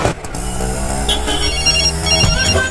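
A mobile phone ringtone chimes over steady traffic and engine noise near a railway station, a repeating melodic tone sounding throughout the short stretch.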